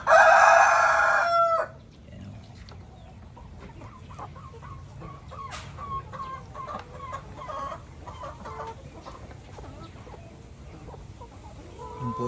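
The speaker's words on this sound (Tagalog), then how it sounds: "Almost 30 heads na mga Rhode Island Red F1 brown eggs yung itlog nila mga kaagri." A Rhode Island Red rooster crows loudly and close at the start, followed by a quieter stretch of scattered clucks and background farm noise from the flock of Rhode Island Red chickens.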